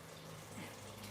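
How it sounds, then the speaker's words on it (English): Water poured into a one-pot beef stew, a brief steady splashing rush of liquid, faint and continuous for about a second. "I need to add a little bit of water so it would last until I put"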